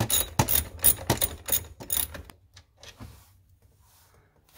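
A 10 mm ratcheting wrench clicks in quick, faint bursts while loosening a bolt under a SAAB during a shifter upgrade, followed by softer scattered taps and near silence.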